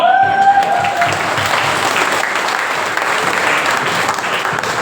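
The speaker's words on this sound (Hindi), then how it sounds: "मौका मिले तो ताली बजा लीजिए" An audience at an indoor seminar session applauds, a dense, steady wash of many hands clapping that holds evenly at moderate loudness, with a faint voice trailing off at the very start.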